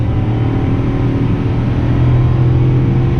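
A steady, loud low engine rumble with a droning hum from a Chevrolet Suburban with its muffler deleted, heard close up and without pause while revving; no voices.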